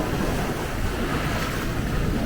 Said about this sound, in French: Là, on est dans un grain à 20 nœuds.